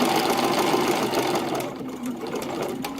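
A sewing machine runs a tiny zigzag stitch on lacy lingerie fabric, a steady, close, continuous mechanical whir that eases slightly in the second half.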